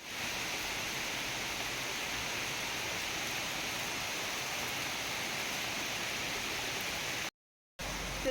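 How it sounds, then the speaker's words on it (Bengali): Steady rain pours outside a home kitchen while a ceiling fan runs, a dense continuous hiss that fills the whole stretch, briefly cutting out near the end. "চারিদিকে যে আওয়াজ বৃষ্টির আর ফ্যানের"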